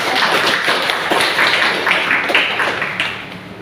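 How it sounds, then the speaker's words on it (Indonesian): Applause from an audience at a student presentation event for a politics and democracy class, a steady, loud patter of many hands clapping that fades slightly toward the end. "Mari kita berikan tepuk tangan."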